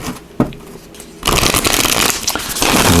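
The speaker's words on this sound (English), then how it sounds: "Let's get a little more shuffle here one more time." Oracle cards riffled and shuffled by hand, a brief soft rustle and a small tap at first, then a steady, loud, close flutter of cards slapping together for the last couple of seconds, with no talking.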